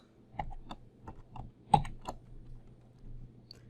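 Computer keyboard and mouse clicks, about ten sparse, separate taps at an irregular pace, close and fairly quiet against a faint steady hum.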